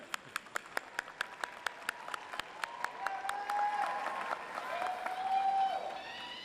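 Graduates applauding at a UCLA commencement ceremony in Pauley Pavilion, starting with steady individual claps that swell into a broad wash of crowd applause and cheering, with whistles rising through the latter half.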